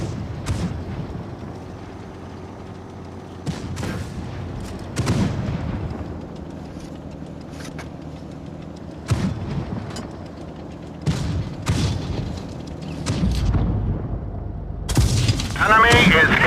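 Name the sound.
tank cannon fire in the video game World of Tanks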